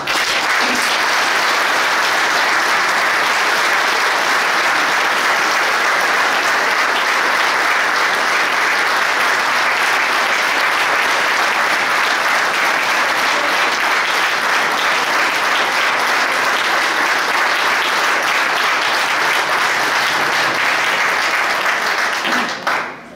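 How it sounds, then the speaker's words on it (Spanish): A large audience gives warm standing applause at a book presentation, steady dense clapping that stays loud and continuous for over twenty seconds before cutting off. "si se ponen de pie, damos un caluroso aplauso"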